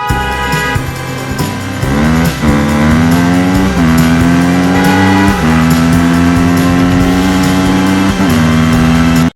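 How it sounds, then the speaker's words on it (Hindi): Cartoon motorbike speeding along a village road, a loud continuous engine whine that rises and shifts pitch in surges, close and alone with music underneath. "सूरज ने बाइक की रफ्तार बढ़ा दी।"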